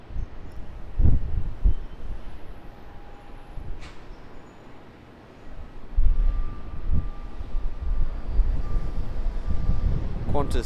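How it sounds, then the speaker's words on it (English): A Qantas Boeing 737-800 departs runway 16 right at Sydney Airport, heard as a broad, distant jet roar that swells and fades with wind buffeting over a steady rumble. "QANTAS 737-800 departing runway 16 right."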